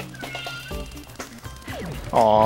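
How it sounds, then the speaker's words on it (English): A cat meows several times nearby, the last cry louder and drawn out, over a busy background with some faint voices. "As you guys hear that meowing?"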